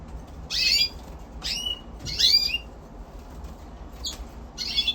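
An F1 red siskin hybrid chirps in an aviary, giving several quick separate bursts of high twittering notes, fairly close, over a quiet background hiss.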